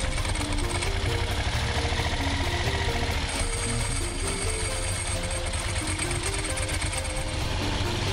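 A touring motorcycle idles just after a hesitant start, a steady close mechanical rattle and ticking running evenly throughout with no talk.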